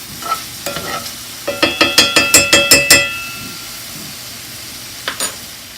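Shrimp cook in a pan to a soft background sizzle, while a utensil knocks against the pan in a quick run of about eight evenly spaced taps, with a few scattered scrapes before and after.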